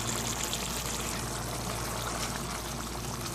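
First-extract coconut milk pours steadily into a simmering mutton stew, a continuous soft liquid rush that holds even and close for a few seconds with no talk.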